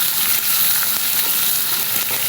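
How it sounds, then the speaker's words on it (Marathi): Onion and tomato with cumin sautéing in a pan, a loud, close, continuous sizzle and crackle of frying that holds steady throughout. "कांदा आणि टोमॅटो टाकून छान असं आपल्याला हे परतून घ्यायचे."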